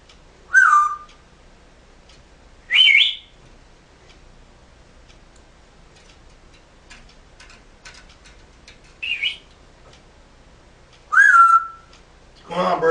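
A pet bird whistles in short, loud bursts, several calls spaced a couple of seconds apart with quiet gaps between, some rising and some falling, heard close by and alone.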